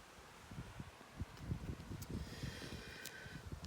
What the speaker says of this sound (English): oh, there's a lot of wind outside